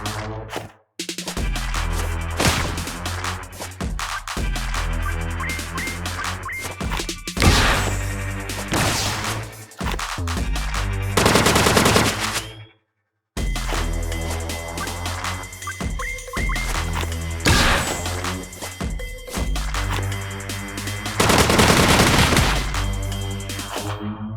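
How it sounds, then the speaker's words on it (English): Repeated bursts of machine gun fire in the retro-style RPG video game Jackmove, loud and rapid, layered over steady game music with several short pauses. "This guy got a machine gun."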